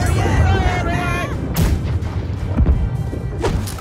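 Mortar fire in the Blackwake naval combat game, with several loud booming blasts and thumps, sharp impacts near the middle and later, over shouted voices and game noise.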